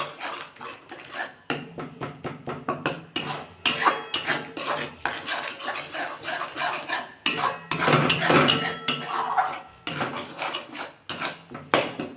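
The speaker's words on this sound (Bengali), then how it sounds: "ওটা সমানে কষতে হবে যতক্ষণ না এই মশলা থেকে জল বেরোয়।" Spice paste being stirred and fried in a pan for a Bengali doi fulkapi dish, a spoon scraping and clanking against the pan over and over. The rhythm is steady and fairly loud, with close metallic knocks and no talking.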